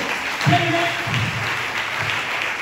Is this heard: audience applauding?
yes